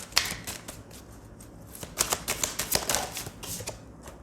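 Tarot cards being shuffled, giving a run of crisp, papery riffles and flicks in uneven bursts, close and fairly quiet with no talking.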